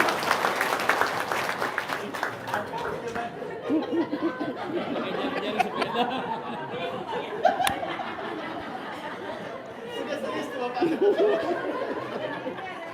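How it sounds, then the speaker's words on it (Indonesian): A seminar audience gives a short burst of applause that quickly gives way to chuckles, laughter and scattered chatter at a moderate distance, with voices talking throughout. "Tepuk tangan dulu dah."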